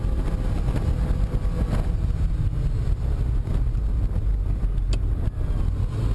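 A Ferrari 308 GTB engine on a race track, a continuous loud rumble from inside the car heard alone, with wind buffeting and no clear rev changes.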